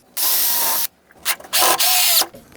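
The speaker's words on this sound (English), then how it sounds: "drill another one" Power drill boring into wood while building model railroad benchwork, two close, loud whining bursts of the motor separated by short pauses and a few clicks.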